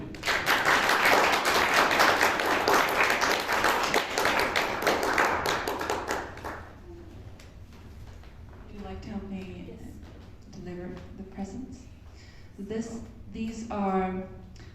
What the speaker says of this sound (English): we'll give them another round of applause